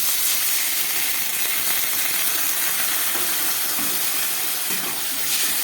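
Water hits hot sautéed vegetables in a pan, setting off a steady, loud hiss of sizzling steam that lasts throughout without pause.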